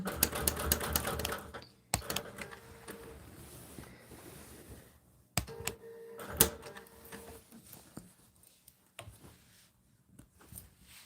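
A sewing machine stitches a table runner in short loud bursts of rapid clattering, with quieter pauses and a few sharp knocks between runs.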